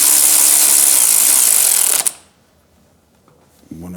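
A power tool with an 8mm Allen hex bit drives a bolt while a 2-2 drag exhaust system is fitted to a Triumph Speed Twin 1200. It whirs loud and steady for about two seconds and then stops abruptly, leaving near silence and a faint clatter.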